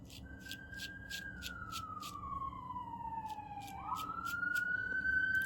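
A police-style siren wails outside, sliding slowly down in pitch and then back up as the vehicle passes at a distance. It grows gradually louder toward the end, with faint ticking in the background.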